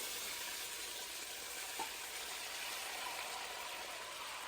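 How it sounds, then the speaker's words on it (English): Pork pieces frying in lard in a Dutch oven give a faint, steady sizzle that holds evenly without pause. "now we're going to fry these in the lard until they get golden brown"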